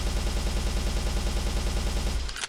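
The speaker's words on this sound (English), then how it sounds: "if I stand about 8 or 9 meters from the wall, similar to when I was testing the gun in Overwatch, and I unload all 30 bullets" Rapid full-auto gunfire from a rifle in a prototype first-person shooter game empties a 30-round magazine in one even rhythmic burst of shots, then cuts off abruptly, with no speech.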